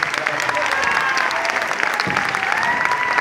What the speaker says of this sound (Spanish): Un aplauso fuerte para ellos.